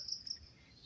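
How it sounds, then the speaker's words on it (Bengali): Crickets chirping along a quiet forest trail, two faint high trilling bursts against a hushed background. "ঝিঝি পোকার ডাকার শব্দ শোনা যাচ্ছে"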